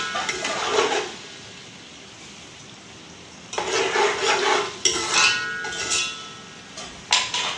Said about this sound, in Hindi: ये फ्राई हो गया हमारा लहसुन